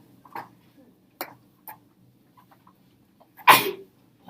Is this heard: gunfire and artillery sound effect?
no